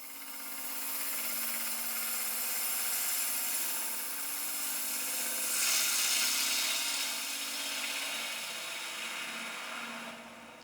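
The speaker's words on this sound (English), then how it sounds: "I took light passes with my bowl gouge to get a rough surface ready for hollowing" A bowl gouge taking light passes inside a hollow form of teal resin and apple wood on a lathe, giving a steady, close scraping hiss that swells briefly midway and runs on with no talking.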